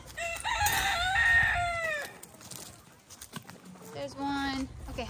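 Chickens squawking and clucking close by, a loud burst of cries followed by a pause and then more clucks, with a person talking at moments.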